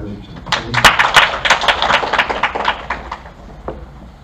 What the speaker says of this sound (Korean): 큰 박수 맞아주십시오